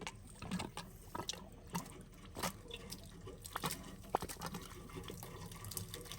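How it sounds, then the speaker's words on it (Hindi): Clean water running under pressure through a gas instant geyser during servicing, a steady close splashing and gurgling flow with small spatters and drips, no talking. "तो अभी जो है हमने साफ पानी इसके ऊपर ऑन कर दिया है।"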